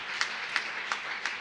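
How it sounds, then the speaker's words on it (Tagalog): A church congregation claps during a preaching service, with faint periodic peaks standing out over a steady low-level wash of clapping at moderate distance. "Palakpakan natin ng malakas na palakpak."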